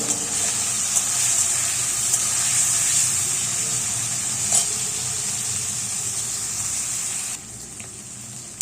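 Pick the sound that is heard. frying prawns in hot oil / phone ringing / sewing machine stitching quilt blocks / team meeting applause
frying prawns in hot oil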